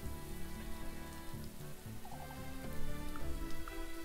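Video game rain, a soft continuous patter and hiss mixed under sustained musical tones, fairly quiet and unbroken throughout.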